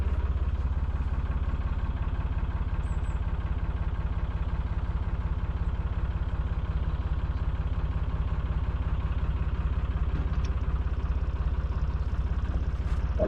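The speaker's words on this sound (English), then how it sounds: "Engine out of gear as we cruise over the top of it." A narrowboat engine idles out of gear on a canal, a steady low diesel throb with faint mechanical clatter running evenly and continuously, close by and alone.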